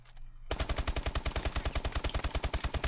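Sustained automatic fire from the ASM-1 in Call of Duty Advanced Warfare, starting abruptly after a quiet moment and hammering out a fast, steady stream of loud, evenly spaced shots with no pauses and no voices.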